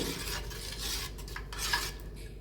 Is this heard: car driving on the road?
no